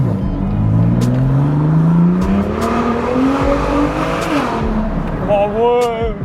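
BMW M2 CS with a newly fitted aftermarket exhaust revs hard and climbs through gears, a loud, close engine note with rising and falling pitch sweeps, voices talking over it near the end.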